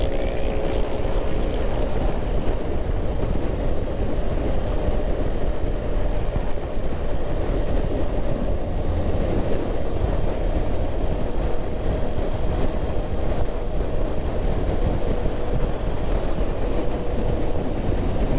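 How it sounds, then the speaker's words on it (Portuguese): Strong wind buffeting a microphone inside a motorcycle helmet while riding across the Palmas bridge at Praia da Graciosa over choppy water, a loud continuous roar and rumble with no pauses. "Eu acredito que vocês estão ouvindo aí o ruído."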